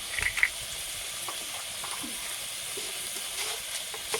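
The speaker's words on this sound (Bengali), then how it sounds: "এটাকে আমি এটাও একটু ভেজে নাড়ানাড়ি করে নেব" Bitter gourd and egg curry with fried spices and pepper powder sizzles gently in a pan while being stirred, a soft steady frying hiss with a few light clinks early on.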